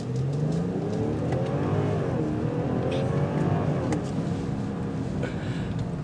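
A 2022 BMW 740i M-Sport pulls away from a stop in the middle of the road, its engine note rising steadily in pitch as it accelerates, loud and continuous from inside the car.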